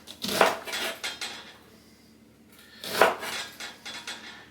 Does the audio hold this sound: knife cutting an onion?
yes